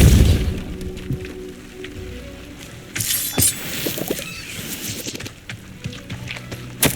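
A Depulso spell cast in Hogwarts Legacy gives a heavy blast and rumble, then a sharp burst of crackling, scattered impacts and debris-like clatter, loud and close.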